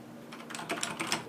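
Razer BlackWidow Chroma mechanical keyboard being typed on, a quick run of about six crisp, clacky keystrokes in an uneven rhythm, close up over a faint steady hum, no talking.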